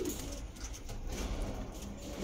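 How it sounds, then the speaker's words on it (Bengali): A pair of pigeons coos softly amid a steady background hum, the low calls blending into the noise with no clear separate notes and no talking. "এই এক জোড়া পায়রা দেখাচ্ছি"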